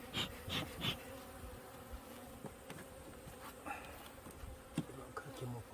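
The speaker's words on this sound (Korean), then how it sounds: "그렇게 벌이 많지가 않네요." Honeybees buzz steadily around an opened hive in early spring, a continuous insect drone with a few louder passes close by and light handling clatter.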